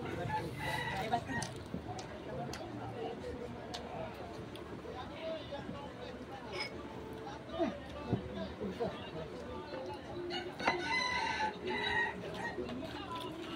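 Backyard chickens clucking at a family Hari Raya gathering, with a rooster crowing midway and again later, scattered soft clucks throughout while people chat nearby.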